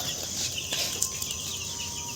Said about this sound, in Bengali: এগুলো হাই গ্রোথের কয়লার মুরগির বাচ্চা